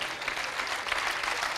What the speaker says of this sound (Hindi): तालियां थोड़ी बजाई भाई साहब